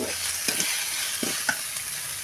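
Food fries in a pan under a low sizzle as a spatula scrapes through it in a few distinct strokes, close by, with no voices.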